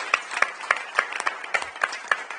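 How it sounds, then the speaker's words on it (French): A small audience at a municipal council meeting claps for local athletes, with sparse, distinct hand claps spaced unevenly rather than a dense roar, fairly close and uneven in loudness. "je vous demande de les applaudir à nouveau"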